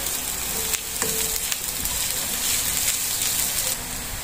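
Garlic, ginger and onion sautéing in oil for chicken adobo, giving a steady, loud, close sizzle with occasional stirring clatter throughout.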